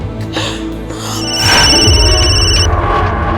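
A telephone rings with a bright electronic tone that sustains briefly, starting softly and then growing louder.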